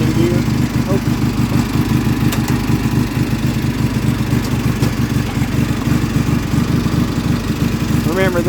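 A shovelhead motorcycle engine idles nearby with a steady, loud, rhythmic thump and a faint voice now and then.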